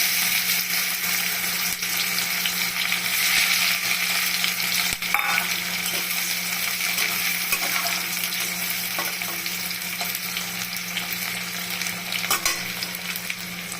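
Garlic and onion frying in hot oil with cumin seeds for an egg curry, a dense continuous sizzle and hiss, close and steady, with a couple of faint clinks.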